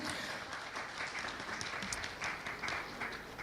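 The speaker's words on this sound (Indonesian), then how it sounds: "boleh tepuk tangan, luar biasa" Quiet, distant applause from a seated audience at a talk, a brief even patter of many hands clapping at low level.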